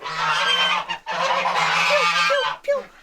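A farm goose honks loudly and close, in long raspy calls with a brief break between them, ending in a short final honk.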